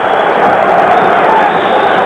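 An arena crowd at a 1982 AIBA amateur boxing bout in Munich gives off a loud, continuous roar of cheering and murmuring that holds steady throughout, with no single voice standing out.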